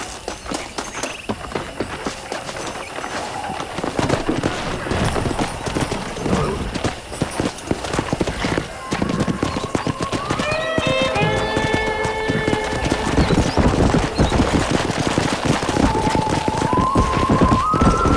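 Steady clip-clop of horse hooves trotting in Red Dead Redemption, continuous and fairly loud, with musical tones and a brief whinny-like sound rising partway through.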